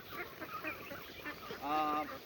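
Farm ducks give harsh honking quacks, a few close calls with a strong nasal burst near the end, over faint background noise.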